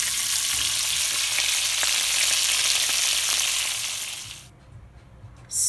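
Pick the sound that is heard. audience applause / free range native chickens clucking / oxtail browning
oxtail browning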